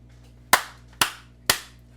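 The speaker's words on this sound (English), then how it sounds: "let me do the claps" Three sharp hand claps for recording sync, evenly spaced about half a second apart, each crisp and close with a quick decay, over a faint low hum and otherwise quiet room.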